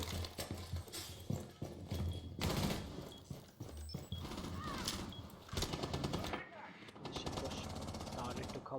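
Rainbow Six Siege gunfire bursts out in rapid rattling volleys during an esports match, mixed with clattering game effects and a caster talking over the action.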